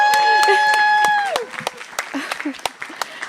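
A concert audience at a new music performance claps in a loose scatter of distinct hand claps that thins out after a sustained tone fades.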